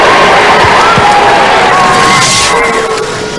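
Loud arena crowd cheering and whooping for the robot Mortis at Robot Wars Series 4, a sustained roar that eases slightly at the end.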